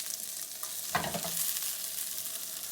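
Onions hit a pan on medium heat and fry with a steady, soft sizzle, a brief louder crackle and stir near the one-second mark, then an even hiss continuing alone.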